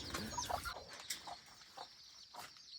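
Chickens and a mother hen clucking on a Thai or Lao farm, faint and somewhat distant, with scattered short clucks under a steady outdoor hiss.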